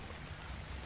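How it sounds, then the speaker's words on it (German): Steady rain falls in the video game ARK Survival, a dense, even wash of patter lasting under a second, with no voices over it. "Wenn es regnet, wird der Klee gemacht."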